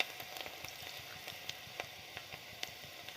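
Chopped onion and green chillies, with ginger, frying in hot oil for a bottle gourd curry, giving a steady faint sizzle with scattered small pops and crackles throughout, no voices.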